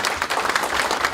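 Lecture audience applauds a former UN Secretary-General after a special talk, a brief burst of dense, even clapping.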